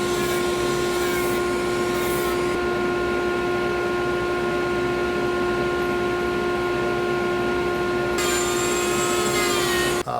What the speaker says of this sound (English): With my sanding drum, and I'm going to start grinding this out first.